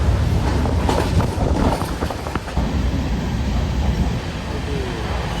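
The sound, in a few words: train running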